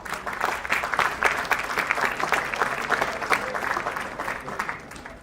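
An audience at an international pharmaceutical research conference claps steadily after a sapling is presented to an honoree, dense even applause holding at a fairly soft, roomy level for several seconds.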